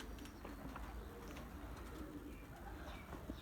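Abrak pigeons coo steadily at close range, soft repeated calls layered over a constant background of further bird sounds, with no one speaking.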